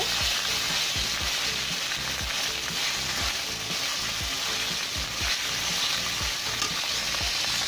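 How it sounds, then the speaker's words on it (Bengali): Masala with cumin and ginger paste frying in a pan, a loud continuous sizzle with rhythmic scraping strokes of a spatula close by, no speech. "মশলাটাকে ভালো করে কষিয়ে নিব"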